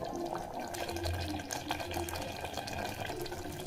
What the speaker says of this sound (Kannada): ನೀರು ಸೇರಿಸ್ತಾಯಿದ್ದೀನಿ 2 ಲೋಟಷ್ಟು.